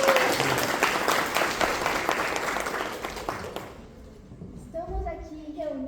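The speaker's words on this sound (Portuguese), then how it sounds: "Palmas aos corajosos, por favor." An audience claps for volunteers at a night horror storytelling session, a steady wash of applause that fades out after a few seconds before a voice starts speaking.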